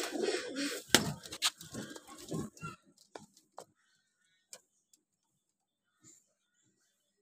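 Young pigeons on a rooftop coo in a close, low murmur that fades after a few seconds, leaving a few sharp ticks and clicks spaced out in near silence.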